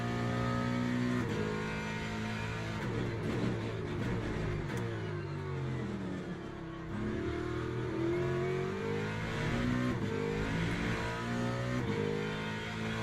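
GT3 race car engine in the Le Mans Ultimate racing sim, revved hard and loud with rising and falling pitch sweeps, continuous throughout without talk.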